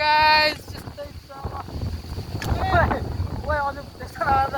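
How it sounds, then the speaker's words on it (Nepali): A strong windstorm sweeps across an outdoor picnic, its gusts roaring and buffeting the microphone in heavy low rumbles, while people talk intermittently through it. "यहाँ डेन्जर हावाहुरी लाग्यो"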